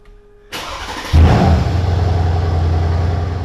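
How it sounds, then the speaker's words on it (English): A 2015 Mercedes-Benz C63 AMG S luxury sports car with over 500 horsepower fires up nearby: a short starter crank, then a loud burst as the engine catches and settles into a deep, rumbling idle. "That's the sound of a 2015 Mercedes-Benz C63 AMG S, a luxury sports car equipped with 500 plus horsepower."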